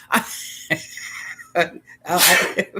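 A single loud, close sneeze bursts out near the end, following a few short vocal sounds and breaths.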